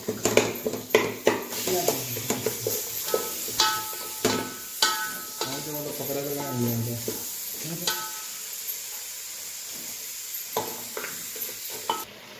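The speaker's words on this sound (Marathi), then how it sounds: "यामध्ये मी सगळे गरे घालून सगळे चांगले मिक्स करून घेते" Raw jackfruit pieces are stirred into a ground coconut masala in a pan, giving repeated scraping and clinking strokes of a spoon against the vessel with a light sizzle and no talk.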